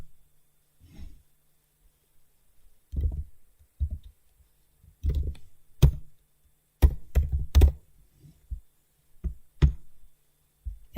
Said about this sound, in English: I think I'm just going to type here.